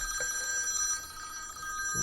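A mobile phone rings with a steady electronic tone, fairly close and continuous, interrupting a conversation in a quiet room.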